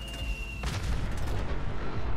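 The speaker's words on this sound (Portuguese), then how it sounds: "Vou atirar mais perto aqui" A gunshot fired in Fallout 4 on a Nuka World DLC mission, a loud broadband blast cutting in abruptly after a steady tone, followed by a rumbling, echoing tail that sustains for over a second.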